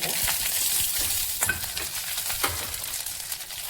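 Mustard seeds, urad dal and chillies fry in hot sesame oil in a kadai on a stove, giving a steady close sizzle with a few sharp pops and stirring scrapes, no voices.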